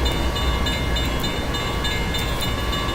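A Union Pacific 844 steam locomotive works over Cajon Pass in the ORTS train simulator, slowing down. A loud, continuous mechanical rumble with steady tonal hums drones without pause and sits close and constant.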